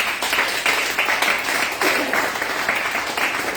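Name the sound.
congregation clapping in church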